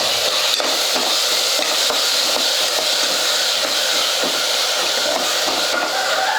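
A ground paste of fresh mint, coriander and green chili fries in a pan for mushroom biryani, giving a steady, dense sizzle and hiss that stays loud and even throughout with light stirring scrapes and no talk.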